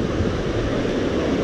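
Big, rough ocean surf on a wide beach roars as a dense, continuous wash of breaking waves, loud and close, mixed with wind buffeting the microphone, with no talking.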